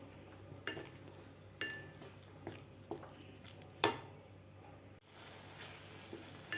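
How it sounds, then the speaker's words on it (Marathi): Masala for okra in yogurt is stirred in a pan over a very low flame, giving faint, regular spoon scrapes against the metal about once a second over a soft background sizzle. "एकदम बारीक गॅसवर आपल्याला हा मसाला परतून घ्यायचा आहे"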